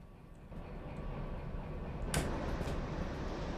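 Steady low rumble of a train rolling along in the Derail Valley train simulator game, a continuous mechanical drone with a brief bright hiss burst partway through.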